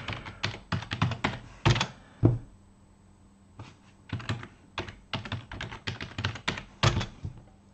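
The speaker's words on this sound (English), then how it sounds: "I cannot type this password in," Clattering keystrokes on a computer keyboard as a password is typed, close and crisp. Several rapid bursts of taps are broken by short pauses, with no talking over them.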